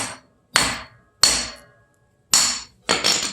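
A hammer strikes a freshly smelted lump of Cerro Gordo silver in a lead cone: five sharp, close, loud blows at uneven intervals, each ringing briefly before fading to silence.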